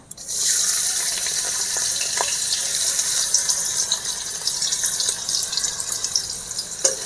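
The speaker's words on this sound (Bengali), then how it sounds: "তেল গরম হয়ে গেছে এবার আমি কালো জিরে এক চামচ দিয়ে দেব গোটা জিরে এক চামচ" Whole nigella and cumin seeds sizzling in hot oil in a kadai, a steady close hiss with faint crackles throughout, no talk.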